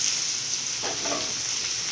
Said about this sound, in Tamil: கடுகு பொரிஞ்சிச்சு வெங்காயம் சேர்த்துக்கலாம்